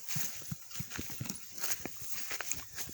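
A black mare's hooves clip-clopping at a steady walking pace, a regular series of muffled thuds with some faint background noise.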